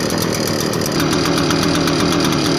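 An Echo gas leaf blower runs at steady, high power, giving a loud, continuous engine roar with a buzzing whine that holds without a break throughout.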